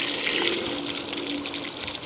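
A garden hose runs water into a bucket with a steady, close rushing and splashing that fills the whole moment without any talk.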